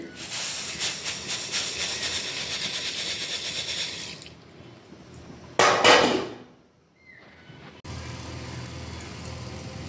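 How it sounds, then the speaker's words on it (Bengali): Milk with sugar simmers in a pot on the stove, giving a broad loud hiss that stops midway, followed by a sharp burst of bubbling, near silence, then a quieter steady hiss. "দুধটা সুন্দরভাবে ফুটে গেছে"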